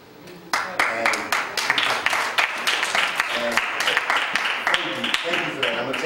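An audience breaks into dense, sustained applause after a brief quiet opening, many hands clapping together at close range with voices faintly mixed underneath.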